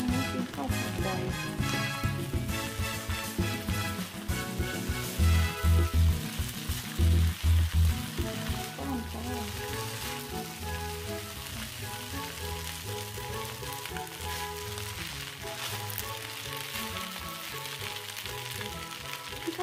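Steady frying sizzle as rice with mixed vegetables is stir-fried in a nonstick pan, with scraping and tapping of a utensil, dense and close throughout.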